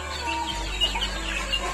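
Chickens in a poultry grow-out coop cluck and murmur softly in a dense, steady chorus, with a few slightly louder clucks over a constant low hum and no talking.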